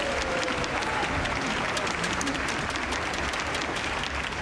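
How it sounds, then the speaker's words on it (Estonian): A concert audience at the Tartu city day gala concert claps steadily in sustained, even applause for baritone singers on stage, a full, busy wash of many hands. "Aplaus!"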